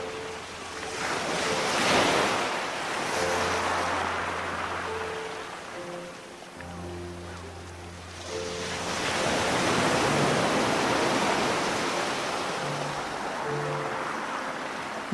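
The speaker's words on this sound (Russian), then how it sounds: "вслушиваясь в звук, исходящий из глубины океанической раковины, напоминающий шум" A soft, hollow rushing like distant surf heard inside a seashell swells and fades, with faint low tones drifting underneath.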